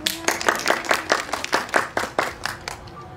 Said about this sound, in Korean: 박수를 보내드릴까요?